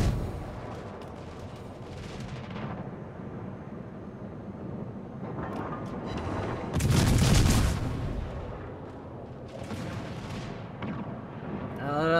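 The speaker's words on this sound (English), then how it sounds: "That is the second wave of airstrikes, so he's in the clear now." A second wave of airstrikes in a naval battle video game on the Cherry Blossom map: scattered distant booms build to a loud, heavy burst midway, with someone talking throughout.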